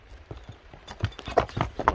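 A horse gallops, its hooves striking in a quick, rhythmic clatter of thuds that grows louder and sharper as it nears.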